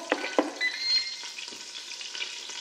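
Melted butter sizzles and crackles in a Ninja Foodi Max pot on sauté mode, a close, steady frying hiss broken by a few sharp pops and stirring scrapes.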